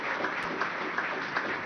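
Dense audience applause for the organizers at a Zeitgeist Movement event in Argentina, steady clapping filling a hall without pause.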